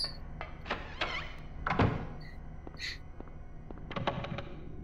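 A jammed door in the Silent Hill video game gives a few dull, hollow knocks and rattles as it is tried, close and fairly quiet against a low ambient drone.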